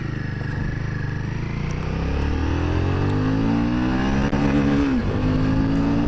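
A Himalayan 450 motorcycle being ridden, its engine loud and close, the pitch climbing steadily as it accelerates, dipping briefly at a gear change and then rising again.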